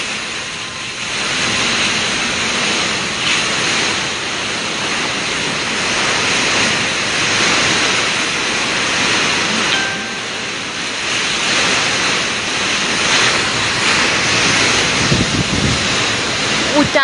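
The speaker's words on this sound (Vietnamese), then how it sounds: "Úi trời, gió lớn quá." Strong typhoon wind from Typhoon No. 9 making landfall in Quang Ngai, roaring continuously and loudly across the microphone for the whole stretch, with gusty surges and rushing, surf-like noise and no pauses.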